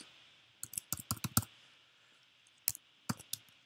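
Someone types on a computer keyboard in a quiet room. Crisp key clicks come in quick bursts, then pause, then another short run of taps.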